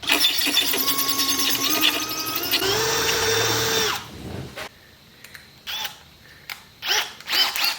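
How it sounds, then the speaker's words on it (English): A power drill bores holes through the chrome windshield frame of a roadster, with a loud whining grind that shifts pitch before stopping, followed by quieter clicks and handling noises. "we're going to drill these holes out in the center"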